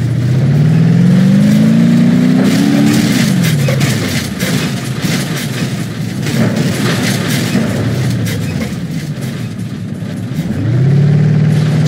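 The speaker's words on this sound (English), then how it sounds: "The engine did not cut out that entire time." A car engine in the BeamNG.drive driving game revs loudly and steadily, rising then falling in pitch, easing off mid-run and revving up again near the end, with no talk.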